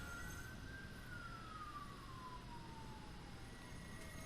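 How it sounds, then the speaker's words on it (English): A police car siren wails faintly in the distance, one slow falling tone under a steady hiss of background noise. "that police siren is on my end"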